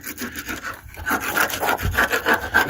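Someone scrapes and chips rust and uneven spots off an old Freightliner day cab truck frame. The scraping comes as a rapid rhythmic series of close, gritty strokes with no talking.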